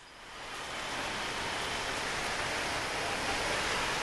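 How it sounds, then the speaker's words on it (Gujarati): Rain pours down in Ahmedabad during Cyclone Tauktae, a steady, dense hiss that swells in over the first second and then holds evenly and close throughout, with no voices. "જાણવા માંગીશું વરસાદની સ્થિતિ હાલ અમદાવાદમાં"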